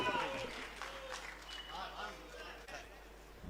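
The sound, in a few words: audience applause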